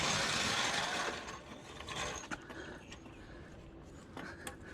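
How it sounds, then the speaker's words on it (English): A jack under a 1998–2008 Subaru Forester's suspension gives a loud ratcheting, grinding mechanism at first, then fades to quieter intermittent clicks and creaks close by. "We're gonna jack up on it right here to push this up towards the body more"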